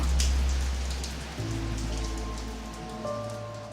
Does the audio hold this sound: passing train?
no